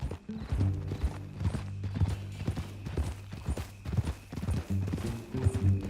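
Horse hooves clip-clop in Red Dead Redemption 2 in a steady, repeated rhythm alongside low mechanical clanking and a droning tone, fairly close and continuous.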